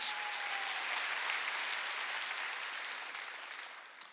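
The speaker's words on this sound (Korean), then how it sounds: "박수 치라 이거." A church congregation at a Sunday worship service claps together in a dense, even wash of applause that stays loud before tapering slightly at the end.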